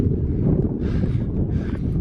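Strong wind buffets the microphone on an exposed mountain ridge in rainy weather, a loud, heavy low rumble that surges and eases in gusts with no speech.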